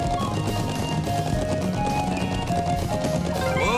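Horse galloping in the video game Trails of Cold Steel, rapid continuous hoofbeats at an even pace, loud and up front, with game music or effects underneath and no talking.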